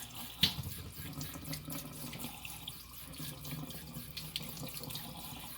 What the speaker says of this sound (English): I'm going to rinse each piece of my chicken individually.